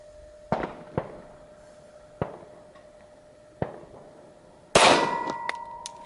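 A Glock 40 Gen 4 MOS 10mm pistol fired at a steel target outdoors, several separate sharp shots spaced a second or more apart, each with a ringing metallic clang, the last one loudest with a lingering ring.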